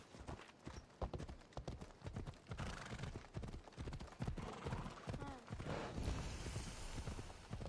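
Repeated hoof clip-clops of a horse galloping in Assassin's Creed Odyssey, close and steady for the whole stretch, with a brief whinny and busy game ambience underneath.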